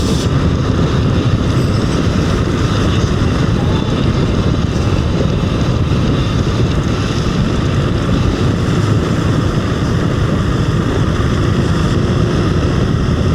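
A KTM 390 Adventure R motorcycle engine drones loudly and steadily while riding, mixed with a heavy roar of wind that stays level throughout.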